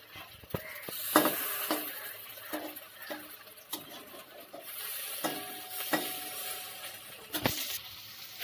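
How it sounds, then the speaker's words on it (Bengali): Poppy seed fritters (posto bora) sizzle steadily in a pan over medium heat, with clattering spatula scrapes and clinks as they are turned; no one speaks. "এটাকে মিডিয়াম করে এগুলোকে ভেজে নেব"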